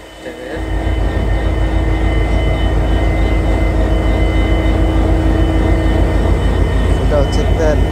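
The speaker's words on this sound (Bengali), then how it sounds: "ইঞ্জিন ট্রেনের" A locomotive engine running steadily from inside the train's cab, a loud continuous low rumble with a constant mechanical hum that starts up within the first second and holds throughout.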